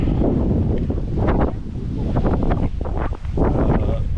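Steady cold wind buffets the microphone outdoors while crab traps are checked, a loud, continuous low rumble with gusting swells and no voices.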